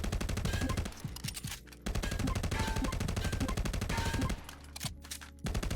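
Loud full-auto gunfire blasts at targets in a VR shooter, running in long continuous bursts split by brief pauses, with nobody speaking over it.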